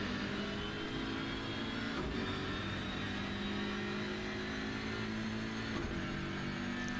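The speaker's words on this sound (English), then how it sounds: "You can hear the BMW notching down a gear" A BMW GT3 race car in the Assetto Corsa Competizione racing game drones loudly and steadily, its engine note dropping sharply twice as it shifts down through the gears.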